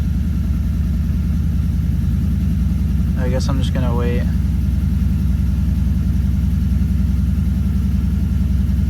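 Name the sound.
Lexus IS250 engine idling after starting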